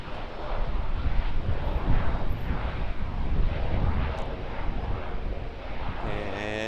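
An Air New Zealand ATR 72 turboprop at Auckland Airport, a broad rumbling roar at middle distance, swelling and slowly easing, with gusts of wind buffeting the microphone.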